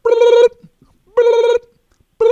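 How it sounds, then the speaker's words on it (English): A retail store's telephone rings in loud, close electronic bursts, three of them spaced about a second apart with quiet gaps between. "The phone rings."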